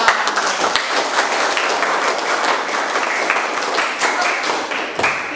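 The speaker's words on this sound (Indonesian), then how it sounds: "tepuk tangan." A school class claps together at the end of a lesson, with steady dense hand claps throughout and a few sharper nearby claps, no speech over it.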